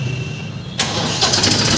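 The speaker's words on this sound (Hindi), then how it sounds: "अभी हमारी ट्रैक्टर चालू हो गई" An Eicher 380 tractor's diesel engine cranks and fires up abruptly partway through, settling into a loud, steady running rumble right after a quiet stretch.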